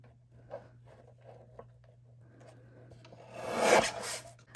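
A paper cutter trims a quarter inch off paper for a Christmas mini folio. Quiet handling leads into one short, rasping slide of the blade near the end.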